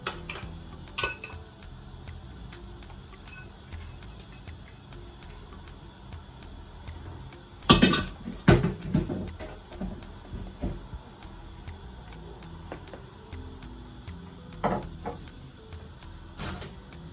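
Metal knife clinking and scraping inside a pot of palm nut soup with goat meat and okra, a short cluster of sharp clatters in the middle over a quiet kitchen background, with a few fainter taps later.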